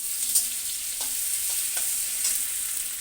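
Ginger hits hot oil with toasted cumin seeds in a pan for tempering, giving a bright steady sizzle with a few soft scrapes of stirring at intervals, close and fairly loud with no talk.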